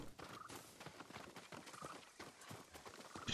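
Horse hooves clip-clop in Ghost of Tsushima, a steady run of light, close hoofbeats through the whole stretch with a brief brighter sound at the very end.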